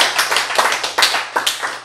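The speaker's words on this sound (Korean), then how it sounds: "박수 치세요" An audience at a Bible lecture claps loudly and close, a burst of several strong, slightly irregular hand claps in quick succession, each sharp attack standing out clearly with no voices over them.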